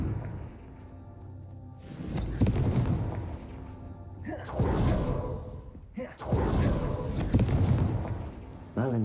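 Confringo fire spell explosions in Hogwarts Legacy, three loud booming blasts with whooshing, crackling bursts spaced a couple of seconds apart over a rumbling game background.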